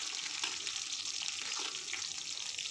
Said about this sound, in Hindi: तो हम प्याज भूनते हैं मस्त एकदम